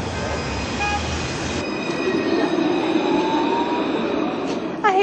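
A light-rail tram rolls through a French city street, its steady rumble carrying high tonal wheel squeal, with a short bright ringing burst near the end.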